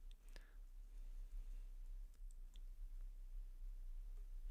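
Faint, sparse clicks of typing on a computer keyboard sit over a quiet, steady low hum.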